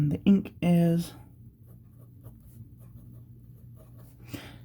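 A fine-nib pen scratches across paper in light, close strokes after a few brief vocal sounds at the start, the writing soft and intermittent.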